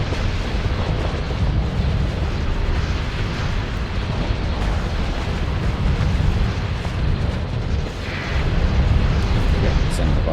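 Heavy, continuous rumbling blasts of torpedo explosions in the space combat game Starsector, a dense roar of booms that swells louder near the end, with no voices.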